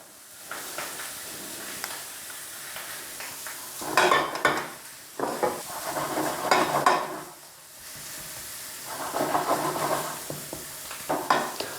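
Pork chops are breaded in a home kitchen: intermittent rustling and crumb-pressing bursts, light clinks of dishes and utensils, close by with quiet pauses between.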